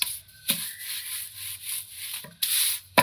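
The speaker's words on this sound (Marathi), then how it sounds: "बटाटे किसून घेतले" Raw potatoes scraped over a grater for fasting-style batata papad, heard as a few short, close rasping strokes separated by quiet gaps.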